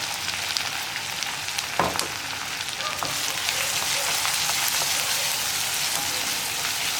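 Bright, continuous sizzling of ginger and garlic frying in hot oil for sardine pickle, with a few scraping stirs of a spoon against the pan.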